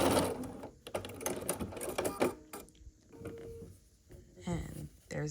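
Sewing machine stitching down the length of a scrappy sampler quilt block seam, a steady mechanical run broken by pauses, with speech-like sounds and fabric handling mixed in nearby.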